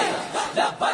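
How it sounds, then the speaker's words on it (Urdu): A crowd in Sial Sharif chants the Labbaik ya Rasool Allah slogan, loud rhythmic bursts of many voices rising and falling in repeated swells. "لبیک یا رسول اللہ کے نعرے لگتے"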